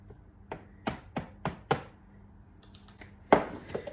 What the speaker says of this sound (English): with a fork, if you fork your pastry